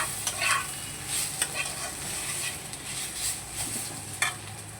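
Onions being stirred in a dry pan without oil, scraping and rustling steadily with a faint sizzle and a few sharp clicks of the spoon against the pan, close by and alone.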